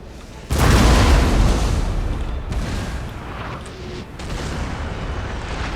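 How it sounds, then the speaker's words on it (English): Cannon shots landing on the ground in the Napoleon: Total War battle game, one heavy boom followed by rumbling impacts and a second, softer blast amid ongoing battlefield noise. "love those new cannon hits on the ground"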